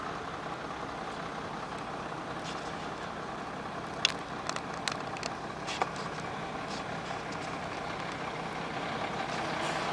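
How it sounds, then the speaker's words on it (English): A truck slows as it approaches the open gate of a West Virginia Class 2 underground injection well, its engine a low, steady rumble heard from a distance, with a few faint higher squeaks partway through. "Here comes a truck."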